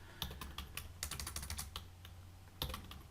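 Quick, uneven clicking of keys on a computer keyboard while typing in a word processor, close and fairly soft, with no talk.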